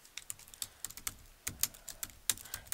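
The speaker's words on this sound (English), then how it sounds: "click on your canvas and type in a word or two." Quick, uneven keystrokes on a computer keyboard as a short word or two is typed; close, crisp clicks in small bursts with brief pauses, no talking.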